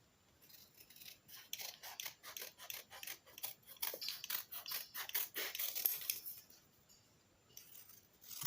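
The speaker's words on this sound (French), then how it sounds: "on plie au milieu et on va couper notre forme" Scissors snip steadily through folded fabric while a doll's cap pattern is cut out, a close run of rhythmic crisp cuts and rasping blade slides that slows and fades near the end.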